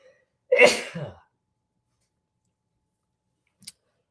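One loud, close sneeze bursts out, followed by silence and a faint click a few seconds later.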